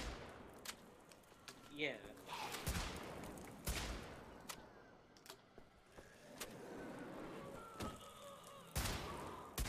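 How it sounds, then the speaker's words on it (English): Gunfire in Wolfenstein: The Old Blood as zombies are shot, with scattered sharp shots and short bursts spread across the clip, fairly faint, mixed with game noise and a brief spoken word. "you're killing half of these zombies by shooting them in the chest"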